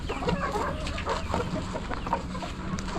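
A hen about to go broody clucks in a backyard poultry area, giving repeated soft, low clucks at a steady pace, fairly close, with faint farm background noise and no talk.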